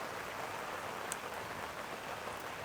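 Steady rain falls during an outdoor breakfast of fried milkfish and eggplant omelette, a continuous even hiss of drops on surfaces with no voices.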